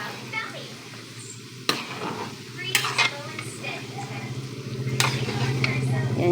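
Shrimp frying in a generous amount of oil, a steady sizzle under occasional sharp clinks and scrapes of a utensil stirring the pan, with faint background voices.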